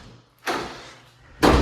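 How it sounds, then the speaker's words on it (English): A bathroom door in an empty apartment is swung shut, giving two distinct closing thuds about a second apart, the second louder and sharper. "I can close this door, which I really liked."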